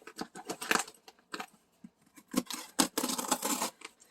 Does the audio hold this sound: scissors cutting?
yes